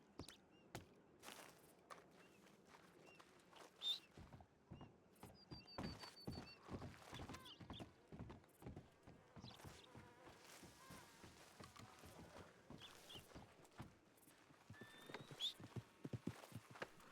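Horse hooves clip-clop in a Western role-play video game, a quick, irregular run of near, crisp hoof strikes with buzzing insect ambience behind them and no talk.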